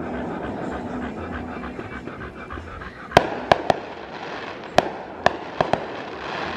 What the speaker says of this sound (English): that's enough fireworks